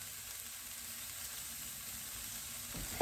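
Chicken pieces sear in a hot pan for cashew chicken, giving a steady low sizzle and hiss throughout. A sharp clatter lands right at the end.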